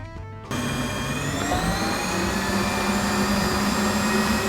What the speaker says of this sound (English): I love this mixer.